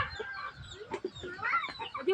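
Chickens clucking close by in a Filipino household yard, a busy run of overlapping clucks and short squawks that continues throughout, with no talk.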